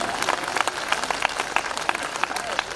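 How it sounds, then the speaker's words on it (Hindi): Audience applause at a live Hindi comedy show, a dense, steady burst of many hands clapping throughout, fairly loud and close, with crowd murmur mixed in. "तालियां कम हैं आपकी"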